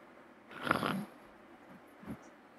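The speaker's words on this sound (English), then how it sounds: "You can hear somebody snoring." A person asleep in a room snores faintly, one rough drawn-out snore followed by a shorter, quieter breath, in an otherwise quiet space.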